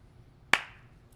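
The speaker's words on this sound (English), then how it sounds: "we'll give it a clap." One sharp, close hand clap in a quiet spot, a single crisp snap with a short, fading tail and nothing else around it.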